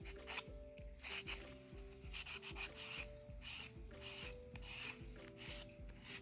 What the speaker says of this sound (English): Now I'm going to take a 100-180 grit, and I'm just going to kind of clean up the edges here.